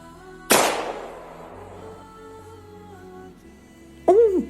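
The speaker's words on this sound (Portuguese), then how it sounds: "Ouviu-se um disparo de arma de fogo." A single sharp gunshot cracks out loud and close, its echo ringing and decaying over a couple of seconds, followed later by a brief tonal sound.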